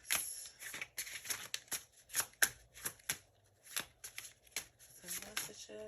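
A hoodoo oracle card deck being shuffled by hand, producing a quick series of crisp riffling bursts and soft slaps, close and clear, with a voice speaking faintly under the card noise near the end.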